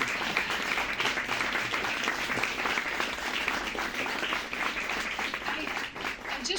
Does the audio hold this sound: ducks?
no